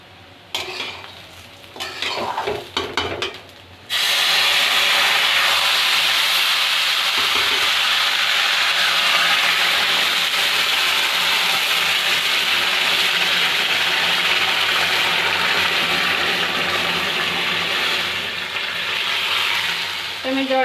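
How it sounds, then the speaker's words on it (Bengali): Water being poured into a pot of kichuri rice and lentils, a loud steady rushing sizzle that starts abruptly and fills the pan after a few seconds of clinking and stirring, holding on continuously. "তো আমি এখন জলটা দিয়ে দিচ্ছি।"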